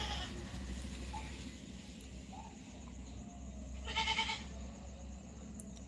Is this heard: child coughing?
no